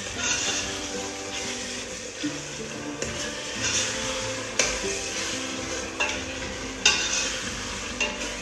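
Fresh tomato frying in a pan, a steady moderate sizzle with regular scraping stirs and occasional utensil knocks at intervals, close by and without speech.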